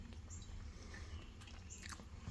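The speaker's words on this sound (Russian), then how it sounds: "Я просто жую." Chewing food close to the mouth, with soft wet biting and mastication sounds, quiet and steady, and no talk.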